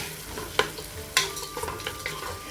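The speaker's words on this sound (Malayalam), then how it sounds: "അണ്ടിപ്പരിപ്പ് മൂത്ത ശേഷം 2 ചെറിയ സവാള ചെറുതാക്കി ചോപ്പ് ചെയ്തത് ഇട്ട് കൊടുക്കുക. നന്നായി ഒന്ന് വാട്ടിയെടുക്കുക." Chopped onions and cashews sauté in a pan for a Kerala-style vegetable pulao. A quiet, continuous sizzle is broken by a few sharp scrapes of a stirring spoon, heard close with no talking.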